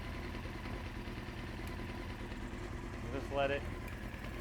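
A 1993 Honda CBR900RR motorcycle engine idles steadily with a low, even rumble during its first start, while someone talks over it.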